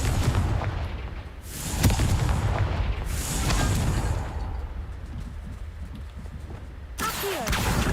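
The Confringo fire spell goes off in Hogwarts Legacy with a series of heavy booming blasts, several strong bursts and rumbling between them, loud and close with no talk.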